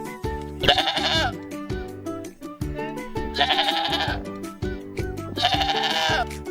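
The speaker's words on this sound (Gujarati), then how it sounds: "ચાલો આપણે બકરીનો વિડીયો જોઈએ" A goat bleats in three loud, wavering calls spaced about two seconds apart, set over a rhythmic musical backing.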